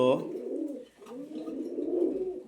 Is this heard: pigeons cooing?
yes